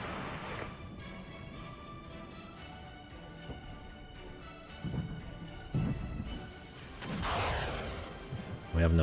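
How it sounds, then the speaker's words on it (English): Abbot self-propelled artillery barrage in the Regiments war game, heard as a series of distant booms and crashing impacts over a busy battlefield din, swelling louder toward the end, with voices talking over it. "Is that artillery? Oh, it is. It's the abbots that were firing on us."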